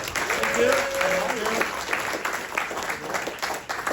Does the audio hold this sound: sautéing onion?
no